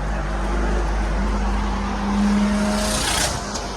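A Deutz-Fahr 115 hp tractor engine starts up, a low steady diesel rumble with a rising whine and a brief hissing burst near the end, loud and close, heard without talk.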